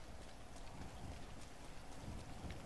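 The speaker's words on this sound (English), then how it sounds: "Is it raining? Why is it raining?" Steady rain pours in GTA 5, a dense, even hiss with low rumbling beneath, constant and fairly loud throughout with no talking.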